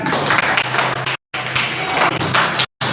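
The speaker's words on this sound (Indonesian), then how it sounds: "Mari kita beri tepuk tangan." An audience in a teacher-training classroom session gives a round of applause, busy crowd clapping in bursts broken by two short moments of silence, fairly loud and close.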